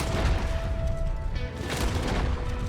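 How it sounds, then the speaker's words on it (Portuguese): Semi-automatic pistol shots from the Red Dead Online video game crack out close and loud in a short burst of several sharp reports with echoing booms between them. "A pistola semiautomática aqui, cara, ela... Olha, ela dá muito pro gasto."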